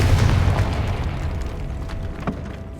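Confringo spell blast in Hogwarts Legacy: a loud, deep explosive boom right at the start that rumbles and decays over a couple of seconds, followed by a faint smaller pop, with no talking.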